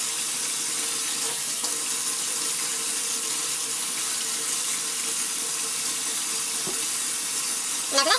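Shower water runs steadily while hair is rinsed during a wash routine, a constant close hiss of spray with a couple of brief knocks and splashes near the end.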